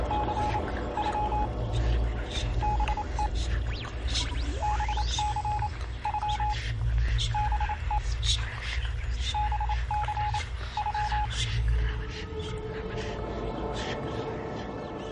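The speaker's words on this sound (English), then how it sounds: "the spirit of Thomas Edison tapped out a message using Morse code" Morse code tapped out as a message at a séance in London: short and longer beeping tone pulses in irregular groups, steady and fairly loud over a constant low hum, with a single rising sweep partway through.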